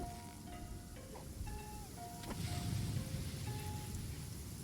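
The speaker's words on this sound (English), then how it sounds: "Oh, it's raining." Rain falls steadily outdoors, a broad hiss that swells slightly midway, with several thin tonal whistles and a faint sharp click layered over it; no one speaks.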